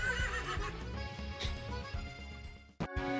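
A horse neighs in the video game La Mulana 2, a loud whinny over game sounds that cuts off sharply near the end before the sounds resume.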